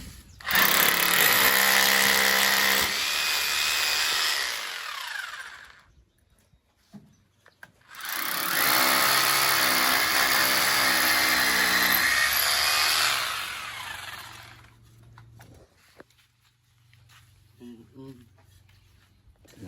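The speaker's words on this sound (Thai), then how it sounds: "แล้วเราก็จะทำการเจาะ เพื่อที่จะฝัง เหล็ก9มิลครับ" A power drill whines loudly in two long bursts separated by a pause, boring holes in a concrete column for 9 mm steel bars, then falls quiet as a voice speaks nearby.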